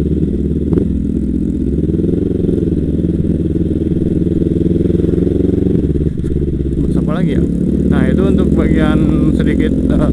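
A 2017 Kawasaki Ninja motorcycle engine idles steadily with a low, throbbing rumble throughout, then revs briefly near the end; someone talks over the running engine.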